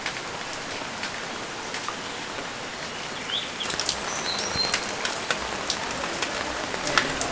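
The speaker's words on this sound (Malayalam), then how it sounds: "നമ്മുടെ നാട്ടിലെ മഴക്കാഴ്ചകളാണ് ഞാൻ നിങ്ങൾക്ക് ഇവിടെ കാണിച്ചു തരാൻ പോകുന്നത്" Steady rain falling in a Kerala village during the August monsoon, a dense even hiss of drops on surfaces with faint bird calls in the background.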